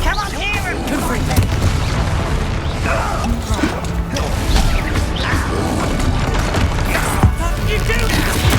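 Blasting explosions from a Confringo spell in Hogwarts Legacy crash and boom amid constant battle clatter, with heavy impacts recurring across a dense, loud game fight.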